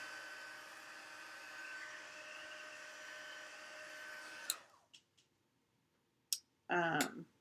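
Heat tool blowing steady hot air to melt embossing powder on a greeting card, a faint even whir that cuts off midway, followed by a few soft clicks and taps.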